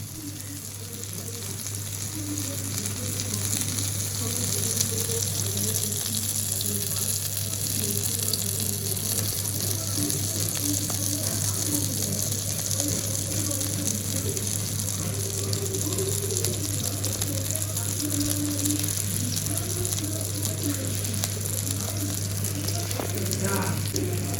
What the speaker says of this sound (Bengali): লইটা মাছটা আজকে আমি ভাজি করব আর তার সাথে হচ্ছে বাটা মাছ ভাজি করতেছি